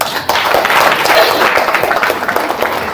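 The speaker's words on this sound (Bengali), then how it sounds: "সারা জনের হাততালি।" An audience claps together at a seminar, giving a dense, steady round of applause for about three seconds.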